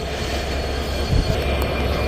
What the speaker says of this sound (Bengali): আমেরিকান ইএমডি e লোকোমোটিভ নিয়ে চলা দুপুরের ট্রেন আন্তনগর কপোতাক্ষ এক্সপ্রেস